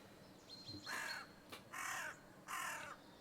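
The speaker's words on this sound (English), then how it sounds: "I hear the mad crow. It's back." A crow on a golf course gives three harsh caws in a row, spaced about a second apart, fairly close and clear over a quiet outdoor background with no talking.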